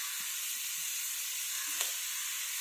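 Onion, tomato and green chilli sauté in a pan, giving a steady soft hiss of frying with a few faint stirring touches.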